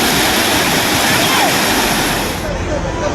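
Floodwater rushes through a river torrent in a loud, continuous roar of churning water that stays close and unbroken throughout.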